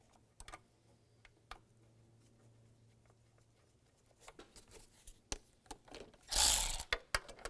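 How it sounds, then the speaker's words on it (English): A ratchet clicks in short bursts while bolts are tightened on the intake hose of a 2017–2022 GMC Acadia, quiet separated clicks at first building to quicker, louder runs, with one harsh scraping clatter near the end. "And tighten them down."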